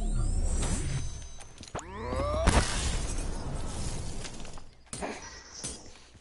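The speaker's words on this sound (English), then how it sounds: "Oh no, I blew the car up" A car blows up in a video game with a sharp, loud blast of shattering debris, set amid whooshing, sweeping game effects and scattered crashes.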